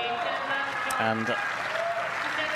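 A tennis crowd applauding after the Raducanu vs Zhang match, a steady wash of clapping throughout, with a voice speaking over it.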